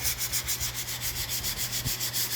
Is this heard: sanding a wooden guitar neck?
yes